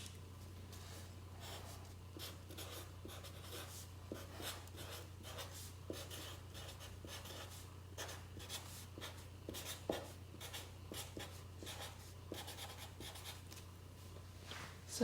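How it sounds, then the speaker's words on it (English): A black Sharpie marker writes on a white sheet of paper, a steady stream of soft squeaky strokes and scratchy felt-tip rubs with short pauses between words, close and quiet over a low constant hum. "Autumn is going to write on a white piece of paper with a black Sharpie marker"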